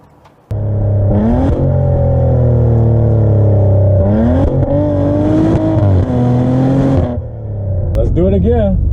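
A 2020 Maserati Levante S engine roars loudly and close, its revs rising and dropping through several downshifts with sharp blips between gears, a steady powerful exhaust note filling the whole stretch.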